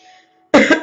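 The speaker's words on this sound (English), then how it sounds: "And so I'll be coughing and sniffling and stuff." A person with a cold gives one loud, close cough in two quick bursts after a brief quiet pause.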